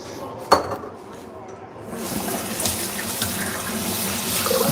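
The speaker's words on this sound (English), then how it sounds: "I'm gonna wash my hands" Tap water running into a kitchen sink while hands are washed, a steady close rush of water that starts after a brief knock and builds to a constant splashing stream.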